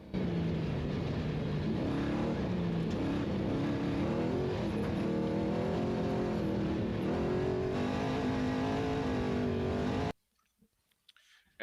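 A race vehicle engine in the NORRA Baja off-road rally is heard close up under the driver's throttle control. It revs and surges continuously, with pitch rising and falling, before cutting off abruptly near the end.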